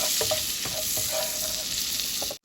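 Cumin seeds frying in melted butter for a dhaba-style paneer dish produce a continuous, close, bright sizzle with faint crackles and light stirring taps, then cut off abruptly near the end.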